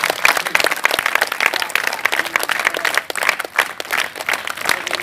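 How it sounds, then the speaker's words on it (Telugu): A crowd claps loudly and continuously at a school shooting ball tournament in Telangana, a dense burst of many hands close by with no voices over it. "గట్టిగా చప్పట్లు కొట్టండి"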